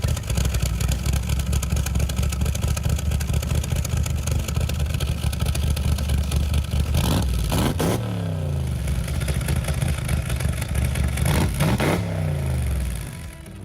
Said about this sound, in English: that new exhaust rumbled to life